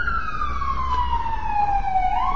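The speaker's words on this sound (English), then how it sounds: "just wait for the sirens to go" A police siren outside in London, a single clear wail sliding slowly downward as it passes, heard steadily over a low background rumble.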